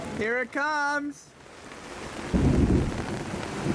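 Rain and a low thunderous rumble sweep over a sailboat on the coast as a lightning storm arrives; a voice speaks briefly at first, then the steady hiss of the storm builds and grows louder.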